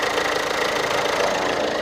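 The diesel engine of a 2020 imported SUV with about 30,000 km, using a Peugeot-Citroën engine, idles as heard from outside the car, giving a steady, even hum and clatter with no talk.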